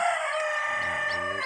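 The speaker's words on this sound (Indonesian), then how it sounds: "campuran ayam Elba, ayam kampung" Mixed Elba and native kampung chickens sound off nearby, with a steady layered clucking and crowing texture running continuously and fairly loud, no talk over it.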